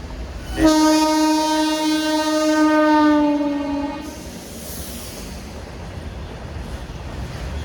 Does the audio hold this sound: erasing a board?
no